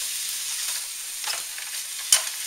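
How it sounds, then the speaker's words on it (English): Ground beef and onions fry in a pot for chili with a steady, fairly quiet sizzle, a few soft stirring scrapes and one sharper clack near the end. "The reason that we are putting the onions in here with the ground beef is because I want them to soften up"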